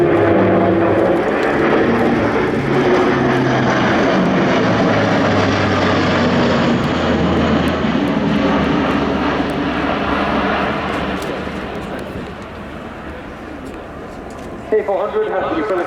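A Luftwaffe Airbus A400M military transport turboprop roars loudly through an accelerating low display pass at an air show, its engine drone filling the air before fading, with an announcer talking over it.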